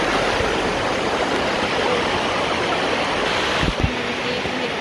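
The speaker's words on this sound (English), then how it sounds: "so this is the end of the falls." Water rushes steadily at the foot of Dunn's River Falls in Jamaica, a loud, dense, continuous roar throughout, with a brief splash or knock near the end and no talking.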